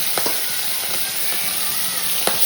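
Fish fries in a pan with a constant close sizzle, joined by a few brief clicks and light scrapes.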